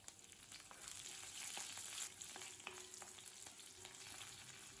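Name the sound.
tempering with green chillies, ginger, curry leaves frying in pan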